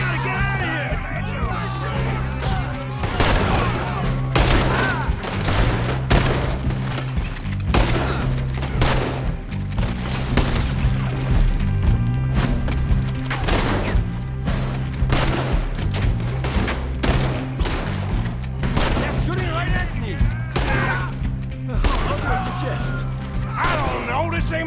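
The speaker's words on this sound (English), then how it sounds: "There he is! Shoot that man!" Repeated gunfire in a Red Dead Redemption 2 shootout, a dense run of sharp shots and booms over a steady low musical drone, with voices calling out now and then across the fight.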